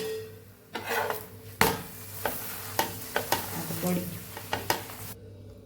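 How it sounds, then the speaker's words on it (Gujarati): An achari laccha paratha cooks in oil in a pan, giving a steady sizzle broken by sharp spatula clacks and scrapes against the pan at irregular intervals, close and fairly loud. "બે સાઈડથી તેલ લગાવીને સરસ આપણે પરાઠાને પકાવી લેવાનું છે"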